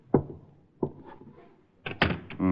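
A door in an old radio detective drama opens and closes: a couple of sharp knocking thuds and a latch clack, then a louder closing thump with creaking, fairly close and alone.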